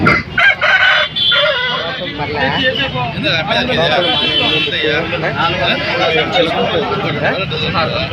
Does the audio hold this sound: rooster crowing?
yes